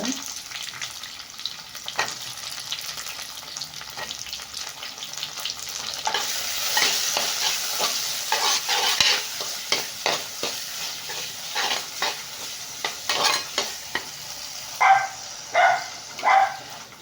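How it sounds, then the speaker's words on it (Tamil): Tamarind and chopped tomatoes sautéing and being stirred in a pan for a tamarind okra curry, with steady sizzling and scraping stirs that grow louder and more rhythmic toward the end, with no talking. "புளி நல்லா இந்த அளவு வதங்கினதும் கட் பண்ணி வச்சுருக்க தக்காளி போட்டுக்கோங்க"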